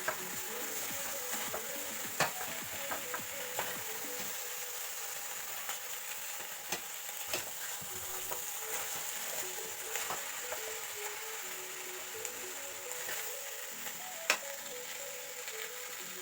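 Beef sizzles in a pot with Maggi seasoning as it is pressed and stirred, a steady soft frying hiss with scattered light scrapes and clicks of the spoon against the pot, fairly quiet with no talking.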